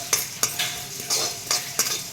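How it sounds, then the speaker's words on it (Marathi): White sesame seeds roast in a pan over low heat, giving a soft steady sizzle broken by sharp scraping strokes of a spoon or spatula stirring them every fraction of a second. "आता ह्याच्यामध्ये पांढरे तीळ घालायचे आहे."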